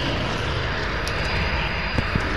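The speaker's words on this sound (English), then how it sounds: "I can't hear you because of the jet." A jet aircraft in a video game roars steadily and loudly throughout, a thick broadband engine rush with a couple of faint clicks near the end.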